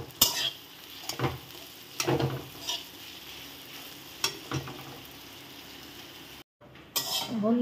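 Ripe jackfruit mash fries in a wok while a utensil stirs it, scraping the metal in repeated strokes about a second apart over a continuous sizzle, with a brief silence near the end.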